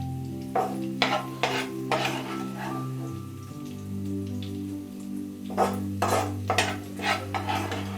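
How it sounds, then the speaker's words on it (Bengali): Fried food being strained out of hot oil in a kadai while cooking kadai chicken, with clinks and scrapes of a metal strainer against the pan in bursts over a steady background hum. "আমি তেলটা ছেঁকে ঝাঁজ দিয়ে তুলে দিচ্ছি"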